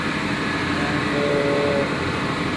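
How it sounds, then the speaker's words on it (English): A hydraulic power pack with hydraulic actuator runs in the engine room of an 8,000 BHP ASD tug boat, giving a steady, dense mechanical drone with a faint tonal whine rising in the middle. "this is our hydraulic power pack with hydraulic activator"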